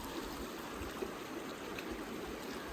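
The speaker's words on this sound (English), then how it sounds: "Look at these little riffles here and runs." Clear creek water runs over shallow riffles in a soft, steady, even wash, faint and continuous with no voices.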